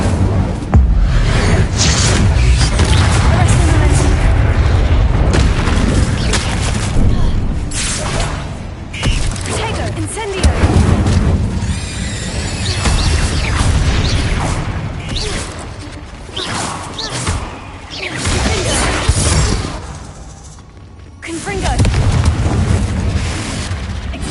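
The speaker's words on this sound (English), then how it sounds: "Incendio, Tato!" Incendio fire spell blasts from Hogwarts Legacy gameplay, a loud, sustained roaring whoosh of fire and booms that swells and dips across the clip, with no voices over it.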